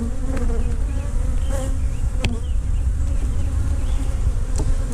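Honeybees buzz steadily and loudly at close range around frames pulled from a nucleus hive during an inspection, a dense continuous drone with occasional brief louder passes of individual bees.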